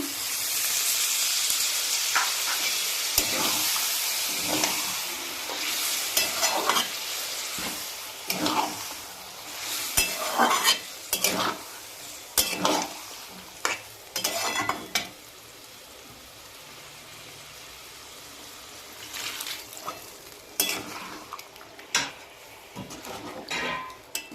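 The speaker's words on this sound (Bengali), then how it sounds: "এবার আমি জল দেবো" Spiced potatoes frying in a pan give a steady, hissing sizzle as water goes in, with clattering spoon stirs and scrapes breaking through. The hiss fades lower toward the end.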